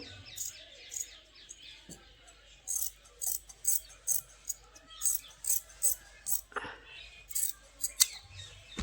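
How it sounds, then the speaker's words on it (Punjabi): Scissors snip through folded material in a steady series of about a dozen short, crisp cuts, close and fairly quiet, with no talking. "ਇਹਦੇ ਫੋਲਡ ਕਰਕੇ ਇਸ ਤਰੀਕੇ ਨਾਲ ਕੱਟ ਲੈਣਾ ਆਪਾਂ ਨੇ"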